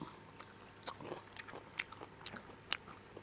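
Close, quiet biting and chewing of crispy lechon kawali with rice, with several sharp crunchy bites over a few seconds amid soft mouth sounds.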